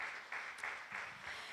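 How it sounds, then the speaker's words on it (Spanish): A Spanish-speaking church congregation gives a short round of applause to the Lord, a faint, distant patter of clapping with a few louder swells. "Dale un fuerte aplauso al Señor"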